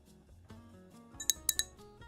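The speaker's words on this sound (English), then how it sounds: "I didn't realize the ASMR glass clinking noise would peak that high" Glass objects clink together in a few sharp, bright taps, quiet at first and then suddenly loud, over faint background music.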